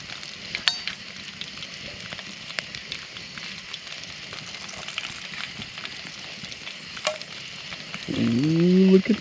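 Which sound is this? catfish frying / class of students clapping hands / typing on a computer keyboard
catfish frying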